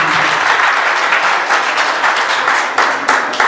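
Audience applause at a live spoken-word poetry performance, dense and loud clapping from a crowd that carries on steadily throughout, with a few sharper claps near the end.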